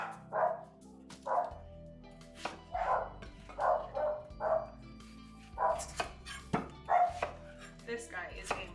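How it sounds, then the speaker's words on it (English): Several dogs bark in repeated short bursts, loud and close, in a home kitchen during cooking, with occasional chopping-like knocks between the barks and no speech. "Sorry, my dogs."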